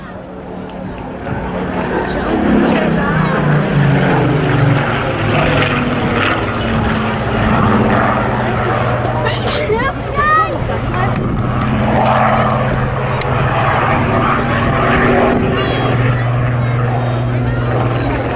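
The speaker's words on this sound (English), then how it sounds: "Battle Britain Memorial Flight, Spitfire PR-19." A Spitfire PR-19 of the Battle of Britain Memorial Flight passes at a Scottish airshow, its piston engine droning loud and steady for the whole run under a busy crowd and commentator's voice.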